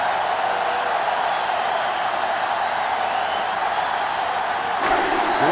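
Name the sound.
crowd cheering in NCAA Football 07 video game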